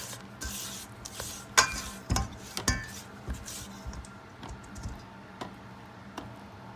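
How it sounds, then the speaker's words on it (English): A small spatula scrapes around the sides of a mixing bowl of vanilla cake batter, giving soft, irregular rubbing and scraping strokes with a few sharper clicks against the bowl, close and fairly quiet. "Now I'm going to scrape down the sides of my bowl to make sure I don't have anything sticking to the sides"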